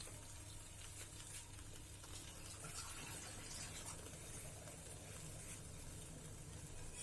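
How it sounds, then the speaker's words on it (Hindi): Water poured first into a bowl that held yogurt, then tipped into a cooking pot for turnips, a steady close gushing pour with broad hiss lasting throughout, no talk. "दही की कटोरी में ही डाल के हम पानी डाल रहे हैं"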